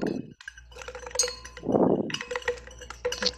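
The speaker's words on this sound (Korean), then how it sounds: "자, 그러면 이제 한 번에 넣어 보겠습니다. 그리고 저어 보겠습니다." A mixture is stirred in a container during a classroom science experiment, giving light clinks and taps of a utensil against the vessel in short, irregular bursts with brief pauses.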